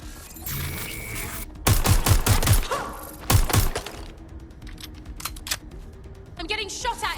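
Bursts of video game gunfire in Watch Dogs: Legion, sharp rapid shots in two loud clusters followed by scattered single cracks, with background game ambience and talk running underneath.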